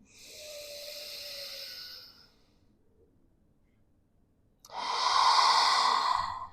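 During a home stretching workout, a long, close inhale hisses for about two seconds, then after a quiet pause comes a louder, fuller exhale, both clearly breathed with no speech.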